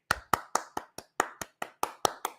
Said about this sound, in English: little soft clap